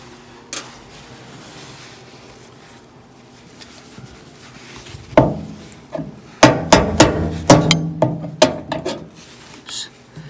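Rusted nails are pried and pulled from an antique car that sat unstarted for 75 years, making a series of sharp metallic clicks, scrapes and knocks that grow busier and louder toward the end, up close.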